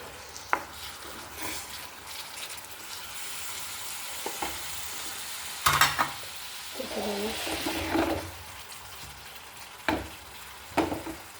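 A sardine roast mixture sizzles and fries steadily in a pan while being stirred, with occasional louder scrapes and knocks against the pan.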